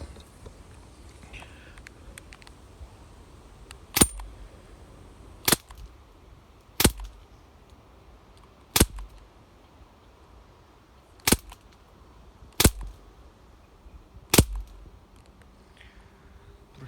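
Seven sharp, isolated pops from a Crosman C11 budget plastic air pistol fired at a paper target, spaced a second or two apart, close and loud against a quiet room.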